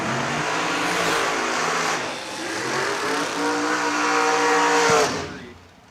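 Drag racing at a track as a dragster and a Camaro run side by side: loud sustained engine roar with rising harmonic whine under crowd and announcer noise, fading out near the end.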